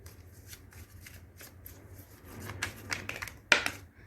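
A deck of oracle cards is shuffled by hand, producing soft repeated riffling and flicking sounds that grow busier near the end, close up and quiet, with no one talking.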